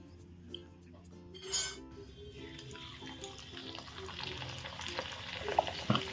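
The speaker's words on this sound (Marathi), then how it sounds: "आता आपण ते तळून पाहूया." Sabudana and potato papad frying in hot oil, a steady close sizzle and bubbling with occasional clinks of a utensil, a brief louder burst near the start, no talk.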